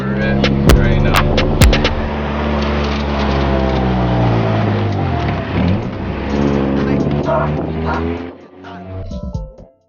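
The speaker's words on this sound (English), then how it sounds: "Sorry for that loud exhaust noise. I gotta fix my flex pipe." An Acura TSX exhaust leaking at the flex pipe drones loudly and steadily from close by, with a low rumbling tone that swells and dips, under a few sharp clicks at the start.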